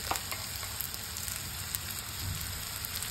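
Onions with Kashmiri chili frying in oil, a continuous close sizzle with faint crackle and occasional stirring scrapes, heard alone without speech.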